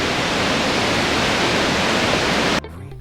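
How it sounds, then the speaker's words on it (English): Bentota waterfall in Sri Lanka, a loud, dense, steady rush of heavy falling water that cuts off abruptly near the end, leaving a quiet low rumble. "we're now at Bentota waterfall. This isn't as big as the Ravana waterfall, but there's so much water."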